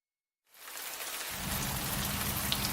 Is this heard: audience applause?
no